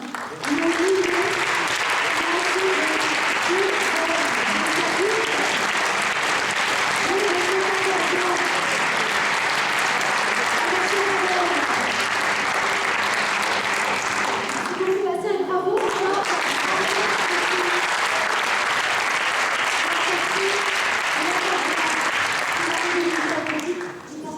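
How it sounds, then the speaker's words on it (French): Sustained, dense applause from an audience at a regional award ceremony held in a government hall, steady and loud throughout, with a brief dip midway and crowd voices murmuring underneath. "je vous demande d'accueillir sous vos applaudissements Bastien."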